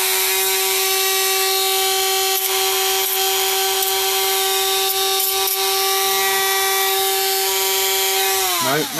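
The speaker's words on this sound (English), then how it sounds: "I'm going to get the Dremel back out because that's now causing issues. Let's just sand that one off." A Dremel rotary tool sands a trophy with a steady, loud high-pitched whine that runs continuously before winding down at the end.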